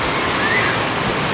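Heavy village rain with water running over the road, a dense, steady roar of rushing water close by with no voices.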